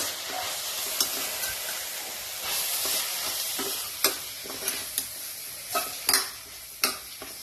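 Chicken curry with chicken masala is stirred in a pressure cooker, a continuous loud sizzle broken by repeated sharp spoon scrapes and clinks against the pot every second or so.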